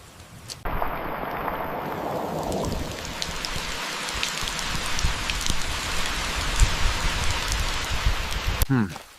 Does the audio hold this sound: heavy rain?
yes